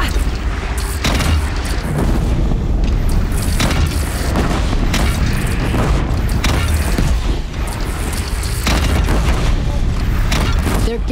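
Cannon fire and explosions in the Horizon Zero Dawn video game, booming blasts and bursts throughout the battle under continuous loud game noise, with voices speaking over the action.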